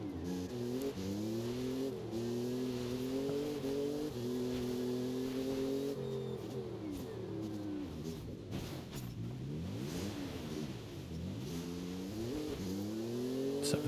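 Engine of a car driven in the video game Forza Horizon 5, holding a steady mid-pitched drone before dipping and rising through revs and gear changes, loud and continuous with no talk.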